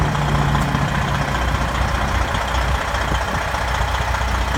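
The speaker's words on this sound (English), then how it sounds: "Engine running." A 2014 Freightliner Columbia 120 Signature Series glider truck, 470 hp with a 13-speed, idles with a deep, steady diesel rumble, close and constant throughout.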